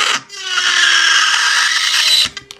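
A Melody Susie Jade Plus nail drill cuts through plastic with a loud, high, steady whine lasting about two seconds, then stops abruptly with small clicks after.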